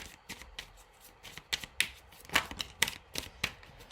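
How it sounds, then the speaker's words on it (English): Tarot cards shuffled by hand in a quiet room, a run of crisp, irregular riffling snaps and soft slides, close and fairly faint, with no talking. "Been shuffling for a while"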